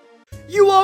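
A single brief note from the Silent 1 synth preset 046 LD dance lead, a bright future bounce lead tone that swells in loudly after a short, soft lead-in.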